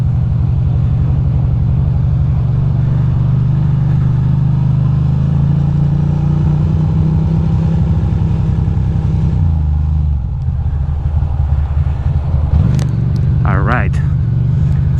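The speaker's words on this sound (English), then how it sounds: "right now I'm riding to Union Garage" A Ducati motorcycle rides through cold, wet, salty winter rain, its engine a steady loud rumble with wind and road noise throughout, someone talking over it.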